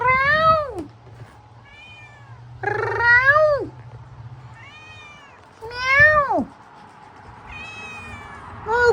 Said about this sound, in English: all of a sudden I'm just hearing like meow